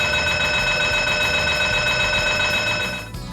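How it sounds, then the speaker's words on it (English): A loud, continuous electronic abandon-rig alarm on an oil rig rings with a harsh buzzing tone, holding steady for a few seconds before trailing off. "the abandoned rig alarm"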